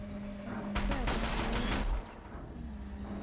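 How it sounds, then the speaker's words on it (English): A Deathbringer gun firing in Horizon Zero Dawn, a loud sustained burst of rapid automatic fire lasting about a second, over steady game background with some voice. "I got a Deathbringer gun right here"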